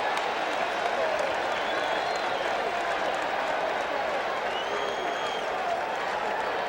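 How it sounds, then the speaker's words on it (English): Stadium crowd roaring steadily at a 1986 World Series baseball game, a dense, constant wash of distant cheering and applause with faint voices scattered through it. "Amidst the roar of the crowd"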